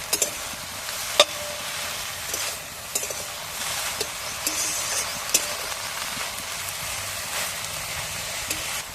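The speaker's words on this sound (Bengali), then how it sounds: "পরিমাণ মতো লবণ দিয়ে দিলাম, মিষ্টি দিয়ে দিলাম। একসাথে সব নাড়াচাড়া করে দেবে একবার।" Greens and bitter gourd with salt and sugar are stirred in a sizzling pan: a continuous frying hiss broken by repeated sharp clinks and scrapes of a spatula against the pan, close up, with no talk.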